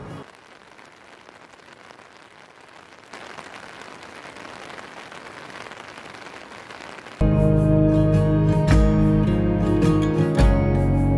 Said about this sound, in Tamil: பட் மழை பெஞ்சிட்டு இருக்கு